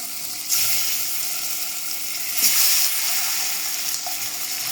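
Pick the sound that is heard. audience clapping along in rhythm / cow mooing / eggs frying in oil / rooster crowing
eggs frying in oil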